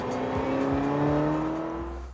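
A Ferrari 355 engine runs with a strong, steady note that swells slightly and then eases off over about two seconds. It sounds close and loud, with no voices.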